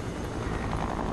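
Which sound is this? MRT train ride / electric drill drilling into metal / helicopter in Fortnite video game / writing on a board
helicopter in Fortnite video game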